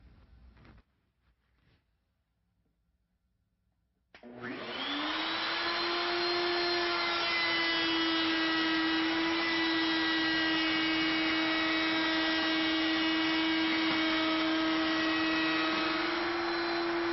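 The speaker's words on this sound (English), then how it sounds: "For the bottom edge of the table, we'll use a 1-inch diameter core box bit, and we have raised it 3/8 of an inch." A router fitted with a 1-inch core box bit set 3/8 inch high shapes the bottom edge of a wooden table, starting up after a few quiet seconds with a rising whine and then holding a loud, steady high-pitched whir.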